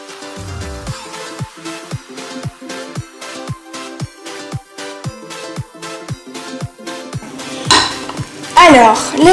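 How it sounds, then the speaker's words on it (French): A spoon knocks rhythmically against a bowl while bread dough is mixed, producing a steady series of sharp clinks and scrapes, louder clattering near the end. "maintenant, tu mélanges tout à la cuillère dans un premier temps"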